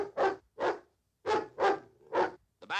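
In a cartoon football game, a dog barks a rhythmic series of about six loud, close barks in quick groups, with no other sound between them.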